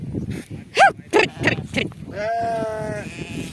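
Several short wavering goat bleats in a row, followed by a longer drawn-out bleat, with a faint voice in the background.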